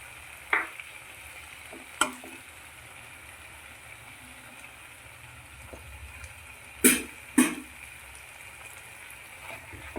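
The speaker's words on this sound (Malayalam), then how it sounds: "ഒന്ന് മിക്സ് ചെയ്ത് കൊടുക്കാം." Chicken sauce with tomato ketchup and red chili sauce, for dragon chicken, simmers softly in a pan, a low, faint sizzle broken by a few sharp spatula scrapes and knocks at uneven intervals.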